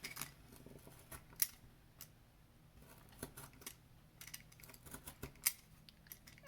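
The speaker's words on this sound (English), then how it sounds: "If you do use a box cutter, make sure it's nice and sharp so you go all the way through." A sharp box cutter scores notches into a cardboard loom, giving a run of faint, irregular scraping cuts and small clicks at close range, with a few sharper slices standing out.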